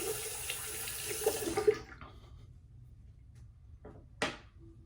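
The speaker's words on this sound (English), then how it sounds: "Rinse out the razors here," Razors rinsed under a running tap: a steady rush of water into a sink for about two seconds, then it cuts off, leaving quiet with a couple of short clinks and splashes near the end.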